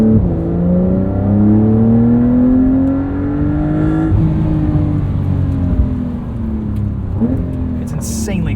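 A 2025 Porsche 911 Carrera S (992.2) engine revs high, its pitch climbing steadily then dropping as it shifts, loud and close.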